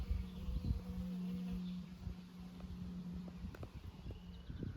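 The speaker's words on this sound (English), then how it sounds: "lots of bees at the watering hole." Bees buzzing at a farm watering hole on a hot afternoon, a close, sustained low drone that rises and fades as insects pass, with scattered light knocks and rustles around it.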